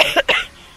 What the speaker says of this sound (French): Je fais que tousser.